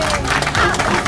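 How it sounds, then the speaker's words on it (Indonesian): A crowd at a community tree-planting gathering in Trenggalek breaks into applause: a dense, steady wash of many hands clapping close by, filling the whole moment without pause. "Jadi tepuk tangan dulu untuk semuanya."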